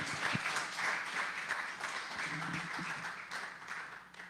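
A church congregation at a Sunday service applauds, steady dense clapping from a crowd at moderate distance that carries on throughout, with a faint voice briefly audible beneath it.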